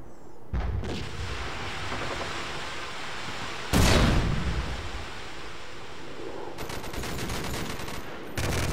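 Call of Duty 4 multiplayer on the Mirage map, with a roaring ambient battle wash, one loud close blast in the middle and a rapid burst of automatic gunfire near the end.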